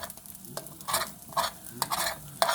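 A spoon scrapes hard across a frying pan with egg stuck to it, in four or five short, rough strokes separated by pauses, close and fairly loud with no talking.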